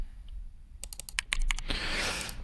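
A computer keyboard clatters in a short burst of close, crisp keystrokes, followed by a louder rush of sound. No one speaks.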